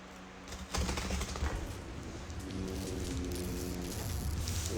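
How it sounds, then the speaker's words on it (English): Cardboard box being cut open during an unboxing, a scraping, rasping slit that begins sharply near the start and runs steadily for several seconds at close range, with no talking. "I'm gonna cut it open this way."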